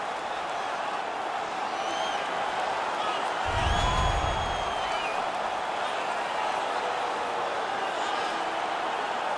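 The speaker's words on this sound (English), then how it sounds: "The crowd is ecstatic." Crowd noise from an NHL 19 hockey game in Hartford Whalers franchise mode versus the Ducks, a steady roar with a brief louder swell in the middle, heard under continuous commentary.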